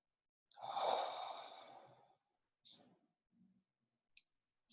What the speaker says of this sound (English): Breathe that in.